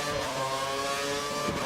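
A Formula One race car engine in the F1 2013 video game drones loudly and continuously at high revs, alone and without pauses.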